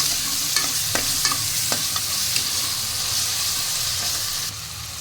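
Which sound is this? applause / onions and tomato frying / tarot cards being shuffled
onions and tomato frying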